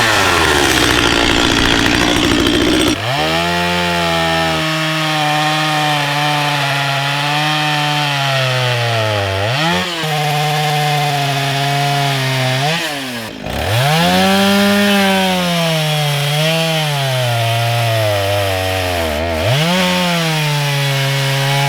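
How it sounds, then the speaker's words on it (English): A chainsaw plunge cuts straight down the center of logs for garden beds. The engine roars loud and close without a break after a brief start, its pitch dipping and surging several times as the bar bites into the wood. "I just plunge cut straight down the center of these, and I let it go in."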